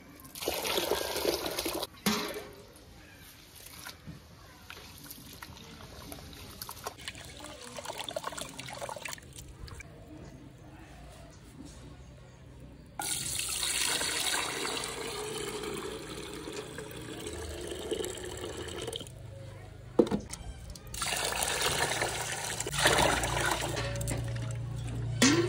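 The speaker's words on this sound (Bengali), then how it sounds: "খুদে এবার আমি জল দিয়ে দেবো। সুন্দর করে আগে ধুয়ে নিতে হবে।" Water poured over broken rice in a vessel for washing, splashing and trickling in uneven bursts with quieter gaps of dripping and swishing, close by and without talk.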